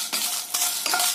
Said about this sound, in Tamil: இது கூட 6 மிளகாய் சேர்த்து வறுத்துக்கோங்க.